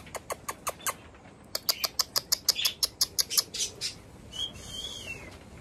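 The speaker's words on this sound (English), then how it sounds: "now we're in the small parrot aviary with the cockatiels and budgies" Cockatiels and budgies in a small parrot aviary give off a run of sharp, evenly spaced chirps, fairly close and loud, followed by a brief rising whistle near the end.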